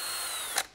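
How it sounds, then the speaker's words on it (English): A power drill bores a hole in wood with a steady high whine that ends in a short burst as the bit finishes, all fairly faint and heard without voices. "And we're going to drill this hole."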